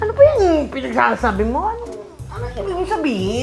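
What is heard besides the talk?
None of the usual background noises is heard.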